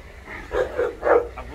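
Dogs let out to feed on a dehided cow carcass, giving a couple of short, close barks or woofs over a brief moment outdoors.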